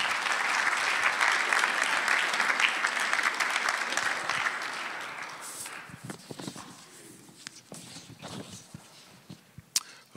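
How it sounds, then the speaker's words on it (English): A church congregation claps together in steady, dense applause for about five seconds, then the clapping thins into scattered claps and fades. "Now, let's just clap for Jesus."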